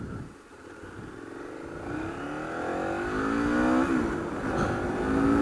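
KTM 1290 Super Adventure motorcycle accelerating on a test ride, its engine note climbing steadily in pitch and growing louder, heard close with wind rushing over it.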